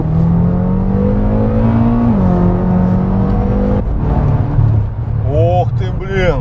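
A BMW M5 under full throttle from about 60 km/h, its engine note climbing steadily then stepping after a gear change, loud and continuous with a voice talking over it.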